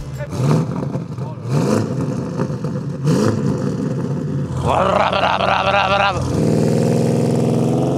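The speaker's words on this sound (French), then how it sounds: "le V8, mais qui a aussi un bruit qui claque comme ça, là" An Audi RS6 V8 engine revs loudly and up close in a series of rising, snarling pulls that end in a sustained high roar, with people talking over it.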